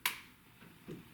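A single sharp click from a pen, one crisp snap at the start followed by a softer mechanical click a moment later, heard close and alone in a quiet room.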